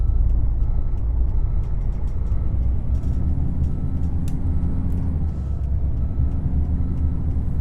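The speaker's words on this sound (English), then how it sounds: "Listen to the engine. Doesn't that sound cool?" A Freightliner Argosy truck engine in American Truck Simulator rumbles low and steady for several seconds at close range, with faint higher hisses and clicks above it and no voices.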